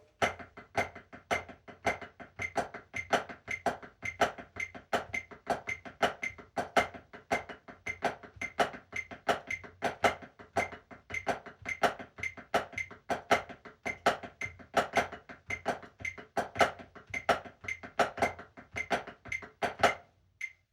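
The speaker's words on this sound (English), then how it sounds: "Another thing we can do is make all the accents flams." Snare drum grid exercise played steadily, with every accent rendered as a flam; a continuous rapid stream of crisp, fairly quiet strokes with regular louder accented hits and no talking.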